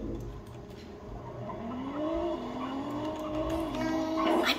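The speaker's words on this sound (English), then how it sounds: "Oh, I love the sound of this car." Car engine revving with tire squeal in the Roblox game Driving Empire, a rising, wavering engine tone that climbs and dips while tires screech, growing louder toward the end.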